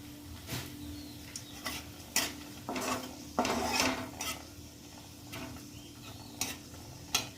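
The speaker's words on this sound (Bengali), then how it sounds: "দিয়ে দেবো দুটো শুকনো লঙ্কা।" Two dry red chillies sizzle in hot oil in a pan, with a steady low frying hiss broken by repeated scraping strokes of a spoon stirring them, near and moderately loud, no voices.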